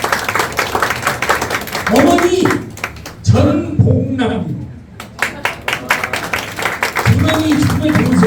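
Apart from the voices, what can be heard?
clapping for the father and mother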